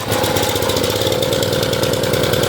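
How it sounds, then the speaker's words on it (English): A pressure washer's small gas engine just after a pull start, running steadily with a loud, close, even chugging drone and no pauses. "Next thing you want to do is you want to start your pressure washer."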